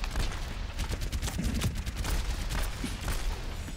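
Rapid gunfire bursts from the Reaper hero in the Overwatch video game, a steady crackle of repeated shots filling the whole stretch at moderate loudness, with no voices over it.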